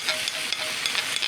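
Kofta dropped onto caramelized onions in a frying pan sizzles loudly and close, a brief bright hiss with small crackling bursts and no talk.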